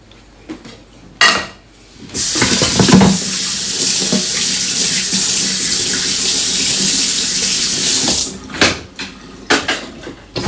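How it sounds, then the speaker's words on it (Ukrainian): Tap water gushes steadily into a kitchen sink while dishes and cutlery clink and clatter, with a few knocks before and after the flow, in London. "Миємо посуд."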